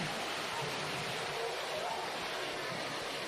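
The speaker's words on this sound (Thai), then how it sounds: "ตอนนี้ฝนตก" Rain falls steadily at a forested resort near a stream in Khao Yai, a constant broadband hiss of drops and running water with no break, fairly faint and even throughout.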